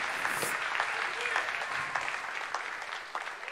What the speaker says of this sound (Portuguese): Alguém pode aplaudir o nome do Senhor esta noite?